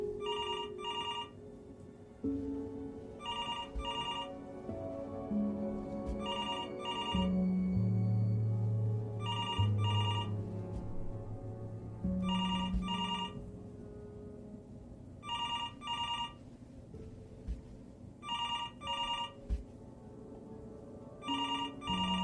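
An old-style telephone bell in the video game Before Your Eyes rings in repeated double bursts, about seven of them at steady intervals, over a low, quiet musical score.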